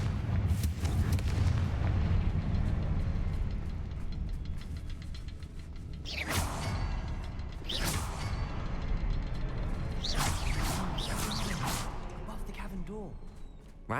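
A Confringo blasting spell goes off in Hogwarts Legacy as a series of booming whooshes and bursts, several loud hits spread over the passage amid game rumble, with voices speaking over it.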